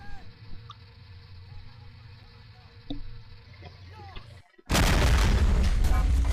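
A KV-1 tank cannon fires in the Men of War game, a sudden loud, sustained blast that swamps everything after a quieter stretch of distant battle noise and faint background sounds.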